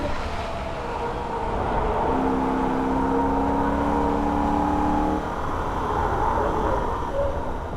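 Holden VF Ute at speed on the Nürburgring, a steady loud engine and road roar with a tonal whine sliding downward as it brakes hard into a right-hand corner, then carrying on through the exit.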